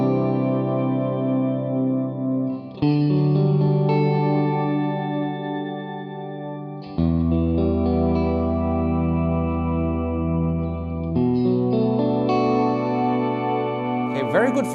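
An electric guitar plays through an Electro-Harmonix POG 3 octave pedal with a slow attack setting, so the layered octave tones swell in gently after each of several sustained chords, with a clean, shimmering, effects-heavy tone and no voice.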